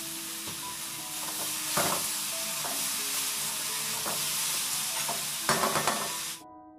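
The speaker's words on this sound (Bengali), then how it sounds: "তো আলুটা দিয়ে একটু নেড়ে চেড়ে ভেজে নেব" Thinly cut long potato strips stir-frying in oil in a pan, a continuous sizzle broken by scraping spatula strokes and clinks, ending abruptly.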